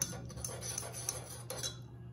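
A spoon clinks softly against a cup while a teaspoon of coconut oil goes into freshly made coffee, several faint, quick metallic taps close by.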